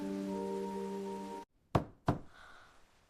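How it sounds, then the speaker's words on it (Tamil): Knocking on a door in a children's story, two sharp, loud knocks spaced apart after a sudden silence, with no talking. "கதவு தட்டும் சத்தம் இரவின் அமைதியை உடைத்தது"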